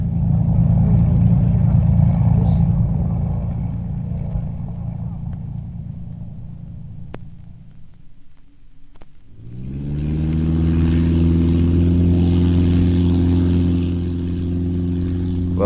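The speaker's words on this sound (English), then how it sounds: "The noise of 12 cylinders of a Rolls-Royce engine." A 12-cylinder Rolls-Royce aircraft engine of the World War II era roars continuously, fades to a brief lull, then returns as a loud, steady droning hum with strong tonal harmonics.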